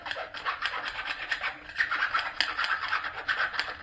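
A metal hand file rasps back and forth across a workpiece being deburred during a DIY Gibson Melody Maker guitar build, giving steady rhythmic scraping strokes up close with no talk.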